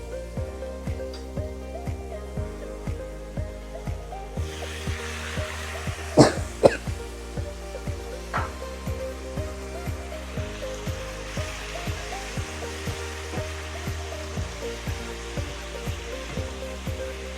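Hot water poured into a pan of shing fish (stinging catfish) curry, a soft continuous splashing hiss that starts partway through and runs under steady background music.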